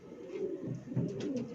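A top-quality pigeon coos softly at close range in a few low, throaty murmurs over faint background noise, with no talking.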